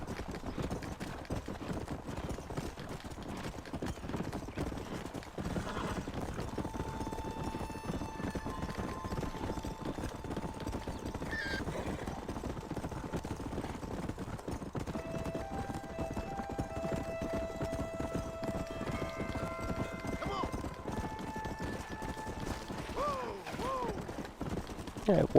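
Horse hooves clip-clopping at a steady rapid gait in the Red Dead Redemption video game, a faint continuous rhythm with light mechanical clinks and tones around it.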